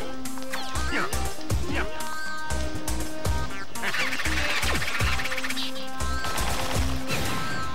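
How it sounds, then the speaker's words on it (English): In the Wario Land: The Shake Dimension video game, a bird honks repeatedly when shaken, loud goose-like honks over game music and crashing effects, with a player talking and exclaiming throughout. "So when you shake the bird, it breaks a lot of stuff."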